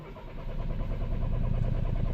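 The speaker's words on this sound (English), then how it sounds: "So ignition on, crank it over, and it's pretty much back down to nothing again." A Citroen C4 Picasso 2.0 HDi diesel with low fuel pressure cranks without starting, producing a steady rhythmic starter-motor churn that is heard up close and grows slightly louder over two seconds.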